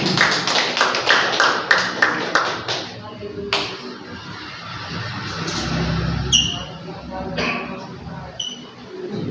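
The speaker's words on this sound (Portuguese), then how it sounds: "Você pode aplaudir o Senhor, amém?" A church congregation at a worship service claps hands for the Lord. Crisp, distinct claps ring out close for the first few seconds, then thin into a softer crowd wash with scattered taps.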